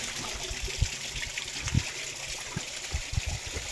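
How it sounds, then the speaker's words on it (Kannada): Water runs and trickles near a temple in a soft continuous flow broken by occasional louder drips and splashes, with no voices. "ಇಲ್ಲಿ ಕೂಡ ನೀರು ಬರ್ತೈತ್ರಿ"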